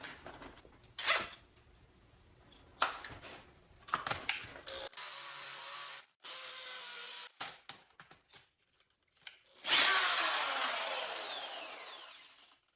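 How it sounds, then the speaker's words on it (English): Scattered clicks and handling noises, then a hammer drill runs in a short burst and later grinds steadily into material for a few seconds, drilling an anchor hole for a tire changer. "hammer drill, and let's give that a go"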